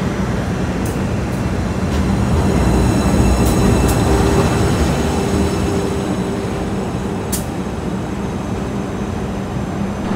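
The Singasari passenger train idles loudly at close range at an Indonesian station platform, a steady mechanical rumble and hum with a few sharp metallic clicks and squeaks rising above it.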